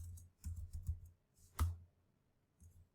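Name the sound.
typing on a computer keyboard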